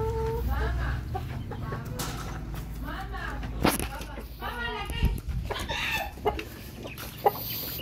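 A breeder chicken clucking close by in a small poultry setting, a series of short repeated clucks and squawks scattered through the clip, with people talking around it.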